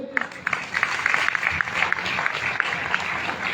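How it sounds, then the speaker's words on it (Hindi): An audience at a motivational company gathering bursts into clapping, sharp individual claps at the start thickening into sustained applause, with some talk underneath. "मैं चाहूंगा अब तक की सबसे शानदार और शानदार ताली आप लोग एक बार बजा दीजिए।"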